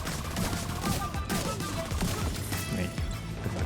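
Rapid gunshots in The Division 2 sound through a dense, loud mix of game combat, with repeated close shots and impacts running over steady background noise.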